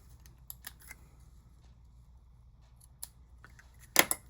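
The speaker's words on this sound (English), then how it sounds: "tie a little bow with twine, take my fabric scissors" Fabric scissors snip through twine with a few quiet, sharp clicks, then one louder, crisp cut near the end, close up in an otherwise hushed room.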